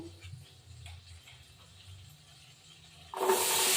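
Potatoes dropped into hot oil for a shrimp and fig curry burst into a loud, broadband sizzle near the end, after a quiet stretch of faint low kitchen rumble and small clicks.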